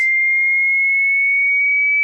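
A pure 2000 Hz sine test tone, a bright, steady whistle-like pitch sustained at even loudness for about two seconds, with no other sound around it.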